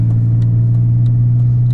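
Steady drone of a manual-transmission car engine running loud and close during a rev-match blip, with a faint periodic ticking above the low hum.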